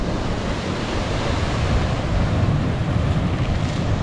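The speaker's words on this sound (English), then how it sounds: "Waves crashing against the rocks." Waves crash against rocks along the seafront at Hammamet, Tunisia, a continuous loud roar of surf and spray with wind rushing across the microphone and no voices.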